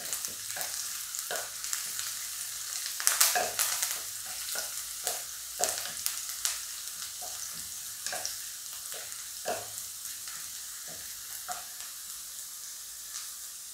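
Curry leaves dropped into hot oil for Kerala-style cherupayar thoran, a bright, continuous sizzle and crackle with sporadic stirring clicks and pops, close and steady with no voices.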